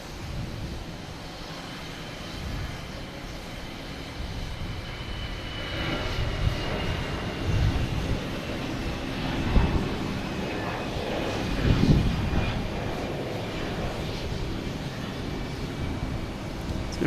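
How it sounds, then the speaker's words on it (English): American Airlines A319 jet heading to Philadelphia from Boston Logan, a faint, distant engine rumble rising gently over a steady background, with a few brief knocks. "we have American Airlines and A319 heading to Philadelphia."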